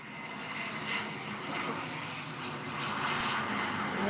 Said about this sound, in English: that looked like a private jet